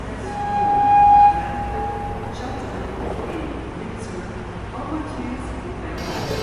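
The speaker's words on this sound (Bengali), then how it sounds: "ট্রেন ঢুকছে," A train pulls into a station, opening with a loud horn blast that fades into a steady rumble of rolling carriages, while people talk nearby.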